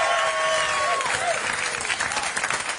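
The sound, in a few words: festival audience applause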